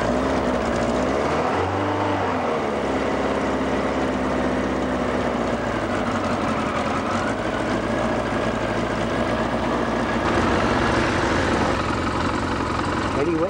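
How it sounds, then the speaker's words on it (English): A Yamaha XJ900S Diversion motorcycle with a leaking fuel pump cranks over and settles into a steady, loud idle that runs continuously up close. "Ignition on, choke on, starter button."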